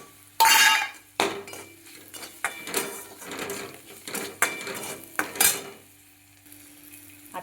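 Chickpea usal cooking in oil with salt in a pan, with bursts of sizzling frying and clattering spoon stirs scraping the pan in irregular spurts, close up, with quieter pauses between and no talking.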